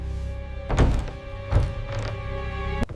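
Two heavy thunks against a stuck door a second apart, then a sharp knock near the end, over a steady low hum.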